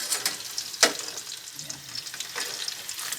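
Chicken frying in oil until brown and crispy, a close crackling sizzle punctuated by a sharp utensil tap early on.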